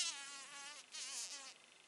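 A Sphex digger wasp buzzes faintly but steadily at close range, a thin wavering whine that surges slightly midway, with no talk.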